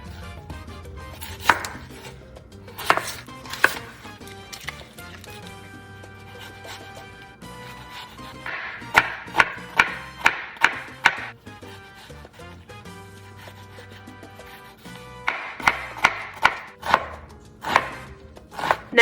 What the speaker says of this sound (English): first thing I'm gonna chop is an onion.